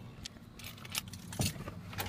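Car keys jangle against the ignition of a 1996 Chevy Cavalier, several quick metallic rattles close by with a faint low engine hum underneath.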